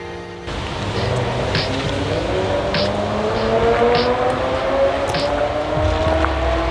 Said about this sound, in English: somebody revs the nuts off whatever type of car they're driving